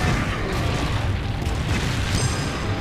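Cannon fire in Monster Hunter Rise during a Rampage defense: loud, heavy booms and rumbling blasts pile up without a break, close and dense for the whole stretch.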